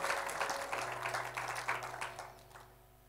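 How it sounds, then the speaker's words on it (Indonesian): A church congregation claps in a burst of applause that fades out over a few seconds, the crowd sounding somewhat distant and soft against a faint steady tone. "Saudara, kasih tepuk tangan buat Tuhan yang luar biasa"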